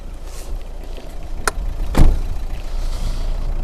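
A 2014 Renault Megane Limited GT-line engine fires up with a sharp crank and catch around two seconds, then settles into a smooth, low, steady idle heard close from inside the car.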